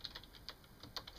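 Quick keystrokes on a computer keyboard, about a dozen light irregular clicks in a short burst, close but quiet, with no voices.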